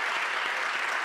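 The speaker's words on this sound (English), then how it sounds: "I think she deserves another round of applause for her exemplary service." Steady applause fills a hall at a school district State of Schools address, honouring a school board member. The clapping is dense and even throughout the short stretch.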